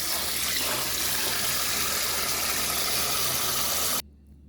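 Turkey necks are washed in water for Jamaican curry turkey neck, with a steady, close rush of running water that stops abruptly near the end and leaves quiet room noise.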